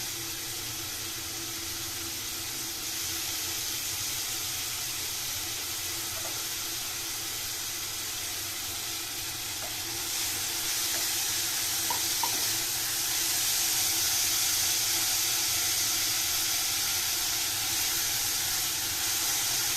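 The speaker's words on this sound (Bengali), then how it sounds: "পেঁয়াজটা হালকা হালকা করে নাড়বো, একটু লাল হবে ততক্ষণ পেঁয়াজটাকে ভাজতে হবে" Onions frying in a pan for mutton pulao or biryani, a steady loud hiss and sizzle that swells slightly partway through, with a few faint clinks.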